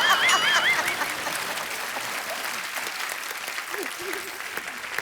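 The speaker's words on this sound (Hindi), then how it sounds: "जोरदार तालियां" A studio audience on a comedy talk show breaks into loud, sustained applause, dense clapping with a few high whoops and squeals at the start, fading slightly but continuing throughout.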